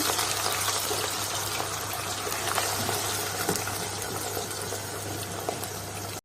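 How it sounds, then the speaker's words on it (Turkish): Diced potatoes sizzle in hot frying oil, a steady, dense crackling hiss that holds evenly throughout with no talking. "Patatesimizi küp küp doğradığımız patateslerimiz kızgın yağın içine atıyoruz"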